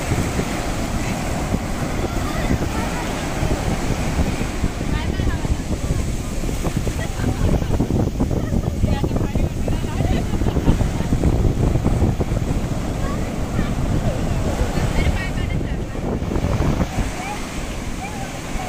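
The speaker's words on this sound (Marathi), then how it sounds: "तर लाटा पाहू शकता कसल्या वेगाने येत आहेत त्या. हे बघा, हे मोठी एक लाट येते." Ocean waves roll in at Talashil beach in a loud, continuous roar of surf, heavy with wind buffeting the microphone, with no break or quiet spell throughout.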